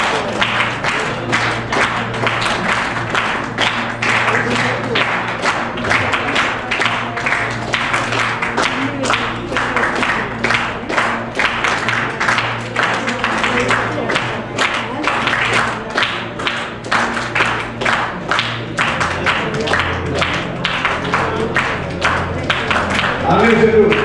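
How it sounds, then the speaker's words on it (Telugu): An audience claps throughout a long burst of applause at a Gita satsang birthday gathering in a temple hall as a sponsor is welcomed on stage. The clapping is dense and rhythmic, with voices mixed in. "వారికి చప్పట్లతో ఆహ్వానం పొందాలి."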